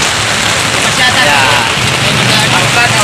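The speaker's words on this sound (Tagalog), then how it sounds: "Talagang malakas na ulan." Heavy rain pouring down during a fishing outing, a loud, dense, continuous hiss filling the whole scene, with a brief spoken word over it.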